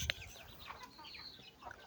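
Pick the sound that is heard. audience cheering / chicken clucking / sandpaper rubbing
chicken clucking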